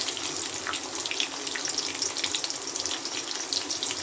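Cumin seeds frying in hot oil give a steady, close sizzle with dense crackles and no break from start to end.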